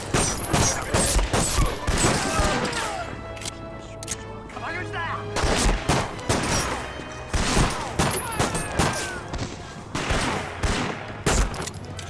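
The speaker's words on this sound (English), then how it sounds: "they will still shoot at you on this part." Enemy gunfire in Medal of Honor, set in Japanese-occupied Singapore: repeated bursts of loud shots and rattling volleys arrive in uneven clusters, with heavier thumps mixed in, continuing steadily throughout.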